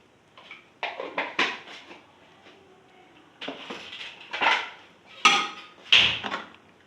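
A spoon stirs egg and chickpea curry in a metal pan, giving a string of clinks and scrapes in irregular bursts, close and moderately loud.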